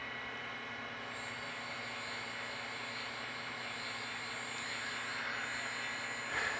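A CNC machine motor runs during cutting for custom gripper production, a steady broadband whir with high whining tones that swells slightly toward the end and finishes with a brief clatter.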